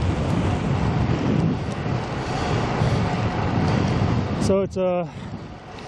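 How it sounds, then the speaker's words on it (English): Steady, roaring wind buffeting the microphone while cycling into a headwind in Albuquerque, constant and loud throughout, with someone speaking briefly near the end. "So I got a pretty good headwind going on."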